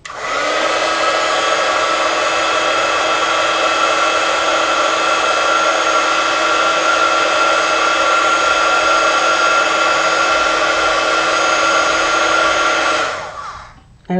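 A heat gun curing powder coating blows with a loud, steady whirring hiss and a constant motor tone for about thirteen seconds, then winds down and cuts off near the end.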